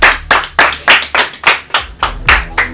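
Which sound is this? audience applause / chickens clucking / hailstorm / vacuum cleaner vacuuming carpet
audience applause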